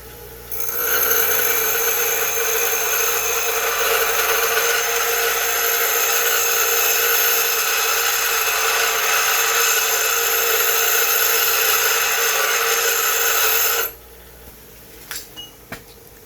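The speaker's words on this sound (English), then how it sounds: "I'm going to show you guys just now another independent example of me grinding iron" A loud, steady, high-pitched grinding whine rings out as a grinder works a piece of iron for about thirteen seconds, then cuts off abruptly, followed by a few faint clicks.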